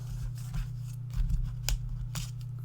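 Scissors cut through paper in a few short snipping strokes for a pink Christmas mini album craft project, close and crisp, with no voices.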